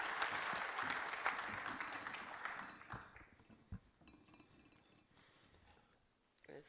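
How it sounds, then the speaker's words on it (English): Conference delegates at the PIDA Week 2017 opening give a round of applause, lively clapping that fades over about three seconds into quiet hall noise with scattered clinks and a soft thud. "she will not arrive here until we have given her a round of applause"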